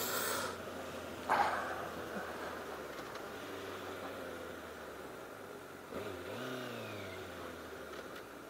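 A 2012 Honda CBR1000RR Fireblade sportbike engine drones steadily while riding, with wind noise, a brief bump near the start and a rising rev swell later on, fairly faint overall.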